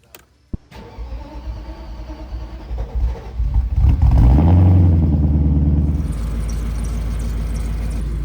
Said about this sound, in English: there's some squeaking going around here in the engine